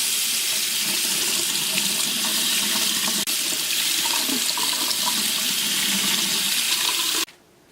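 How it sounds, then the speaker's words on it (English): Running tap water pours steadily over an RC car shock spring and shock body being rinsed under the faucet, a continuous close hiss and splash that cuts off abruptly near the end. "I'll go give that a rinse under the tap actually"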